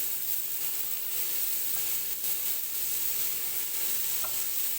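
Ginger, garlic and tomato masala for a paneer curry frying in a pan, a continuous even sizzle with faint stirring, close and alone without talk.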